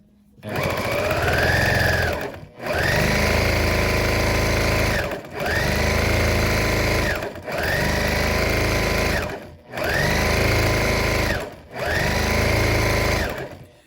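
A sewing machine runs in five or six steady bursts, loud and close, stitching the full length of a seam with about a half-inch allowance on a fabric heat massager cover, with short pauses between runs and no talk.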